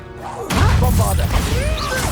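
A Bombarda spell detonates in Hogwarts Legacy: a sudden, loud crashing blast bursts in after a brief lull and rumbles on with debris-like clatter and shimmering magical tones.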